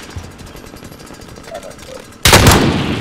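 Gunfire in the Call of Duty: Modern Warfare video game: a sudden loud burst near the end breaks in over a quieter stretch of low rumbling and faint background noise.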